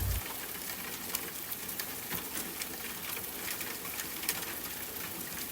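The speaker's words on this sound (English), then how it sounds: "I lay on my back and listened to the rain on the window." Steady rain patters on a window, a dense even hiss with scattered sharper drop taps, constant and fairly close, with no voices.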